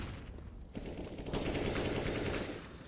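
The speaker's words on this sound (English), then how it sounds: "They do take some damage early from that nade." A grenade blast in a Counter-Strike match, a sudden burst that swells into a loud crackling roar, followed by a second or so of rattling noise before it fades.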